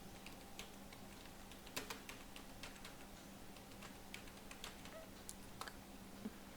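Quiet, scattered keystrokes on a computer keyboard in an otherwise still room, irregular soft clicks with a low steady hum underneath and no voices.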